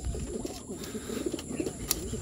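Young pigeons being trained at a cemetery coo softly in a low, repeated murmur, with faint rustling and a brief sharp chirp near the end.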